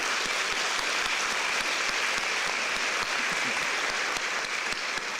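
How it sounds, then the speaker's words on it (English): Dinner guests at a chamber of commerce New Year banquet applaud steadily, a dense, even wash of clapping from a large room that holds at a constant level throughout, with no voices rising above it. "So give yourself a round of applause."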